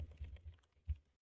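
Quiet, close typing on a computer keyboard, a short run of soft key clicks ending in one firmer tap before it goes silent.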